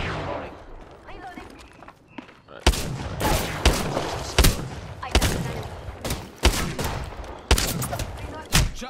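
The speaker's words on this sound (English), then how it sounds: "Shots fired, and they're hitting me." Video game gunfire in a firefight, loud sharp shots cracking in quick irregular bursts over a quieter start, with voices talking underneath.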